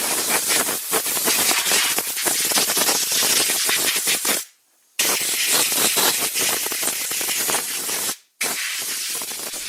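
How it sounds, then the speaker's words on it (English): Compressed air gun blasting wood chips and debris off a Stihl chainsaw before carburetor work: a loud, continuous broadband hiss that cuts out briefly twice, once for about half a second and again for a shorter moment. "we got the air gun here. What we're going to do is we're going to blow all the wood chips and stuff off here as we can"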